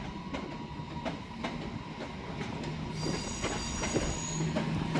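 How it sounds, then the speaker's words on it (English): Northern train 323224, the 1403 service to Crewe, pulls out of Manchester Piccadilly station with rumbling wagons, repeated wheel clicks and a thin rising squeal, close and steady. "now departing is 323224 with the 1403 Northern service to Crewe"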